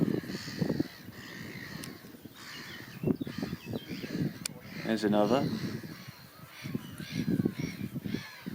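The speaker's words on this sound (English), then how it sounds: "Gull colonies can be so raucous sometimes." Harsh, raucous calls from many gulls overlap across a busy colony, loud and continuous, with a person speaking briefly among them.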